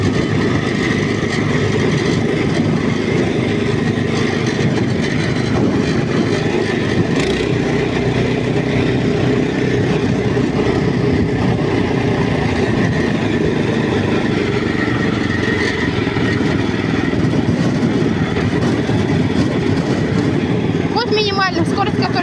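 A walk-behind tractor engine runs steadily while the machine drives along toward the woods, a continuous loud chugging rumble close by with no breaks, and a voice talks over it.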